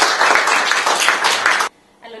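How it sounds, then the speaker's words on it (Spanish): An audience at a book launch gives applause for Sol Marina Garay, a dense burst of many hands clapping that stops abruptly after about a second and a half, followed by a brief voice. "Un aplauso para Sol Marina"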